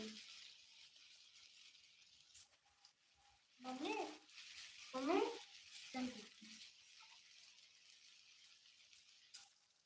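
Homemade chhana koftas fry in a small amount of oil with a steady close hiss and sizzle throughout, broken by a few louder bursts of movement or voice partway through.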